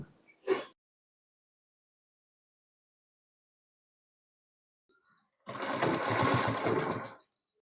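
A sewing machine stitches a gents shirt in one steady run of about two seconds near the end, after a short knock and a long silence.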